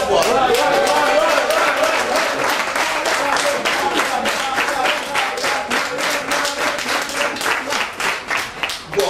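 A conference audience gives warm, sustained applause, with many hands clapping densely at first and thinning into more distinct individual claps toward the end.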